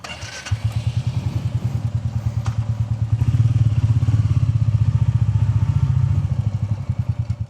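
A Royal Enfield Meteor 350 single-cylinder motorcycle thumps along at steady speed on a road trip, its loud, even exhaust pulse rising slightly midway, with no talk.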